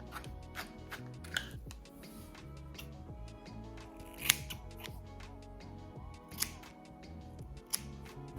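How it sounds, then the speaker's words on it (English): Scissors slide cutting through the front of a U-part wig's hair, giving soft, quiet repeated snips and sliding metallic ticks spread across the moment, close and faint. "I'm just kind of slide cutting around the front."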